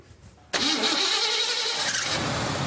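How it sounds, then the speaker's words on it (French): A car engine cranks and fires after a brief quiet moment, then settles into a loud, steady, close roar. The setting is a car museum with classic cars such as a 1979 Cadillac Seville with a 5.7-litre V8. "Laurent Pénichou et Julien Guéry ont fait rugir le moteur"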